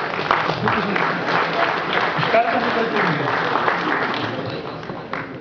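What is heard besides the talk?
men applauding in a hall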